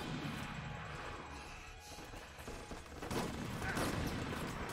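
Faint, dense volleys of gunfire crackle from a zombie shooter game, Resident Evil: Operation Raccoon City, with rapid overlapping shots that swell louder toward the end.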